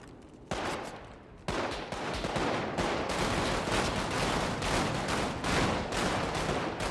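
Sustained automatic gunfire in a GTA 5 roleplay firefight, loud dense bursts with sharp individual cracks, a brief pause early on, then near-continuous shooting to the end.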